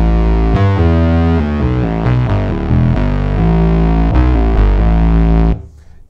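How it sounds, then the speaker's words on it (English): A Moog Minitaur synthesizer plays a big, buzzy bass line with a square-wave oscillator layered over a sawtooth. The notes are loud and close, stepping through a short rhythmic phrase before cutting off. "Here's oscillator 2 square with oscillator 1 out of sawtooth."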